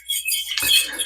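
A brief metallic scrape and clink of a fork dragging across a pan while cooking bison ribeye, short and close.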